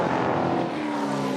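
Touring race cars, a pack of Ford Mustangs and Falcons with a GM Camaro among them, roar past in a loud, continuous engine drone lasting just over a second.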